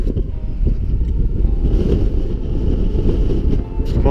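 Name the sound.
strong wind on a Lake District mountain pass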